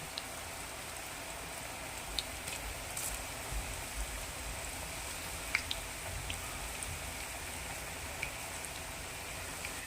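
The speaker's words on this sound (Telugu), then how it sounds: "ఆయిల్ అంతా హీట్ అయిన తర్వాత కొంచెం కొంచెం పకోడీ వేసుకోవాలి" Cabbage pakodi deep-fry in a kadai half full of hot oil, giving a soft, continuous crackling fizz with scattered small pops, faint and steady, with no voices.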